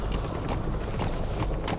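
Quick close hoofbeats of a galloping horse in Metal Gear Solid V, a short steady run of thuds with no voices.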